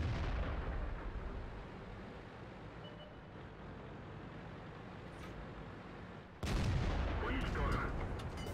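A tank cannon firing in the online tank game on the Mountain Pass map, from an Object 430: a single loud, sudden boom near the end after a stretch of low engine rumble, close and heavy.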